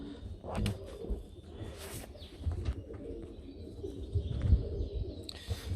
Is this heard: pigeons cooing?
yes